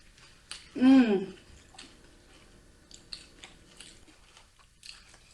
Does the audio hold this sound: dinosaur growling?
no